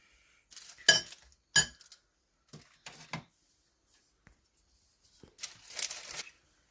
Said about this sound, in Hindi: ये कुछ स्पून है जो हमारे नॉन स्टिक के सेट में से निकले हैं, वो भी हम इसके साथ ही रख देते हैं यहाँ पर